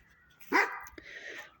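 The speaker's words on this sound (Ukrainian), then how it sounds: "Ці сусідські собаки вже задовбали своїм гавканням." A neighbour's dog barks once loudly at a distance, followed by a softer yip and a trailing whine, in an otherwise quiet outdoor setting.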